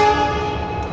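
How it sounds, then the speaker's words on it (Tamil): Mangalore Express at Yesvantpur, with a WDP-4D diesel locomotive at the front: a steady, loud mechanical drone with layered tonal hum fills the scene, and a faint horn-like tone rises near the end. "ஒரு டீசல் லோக்கோமோட்டிவ் WDP-4D தான் புல் பண்ண போகுது"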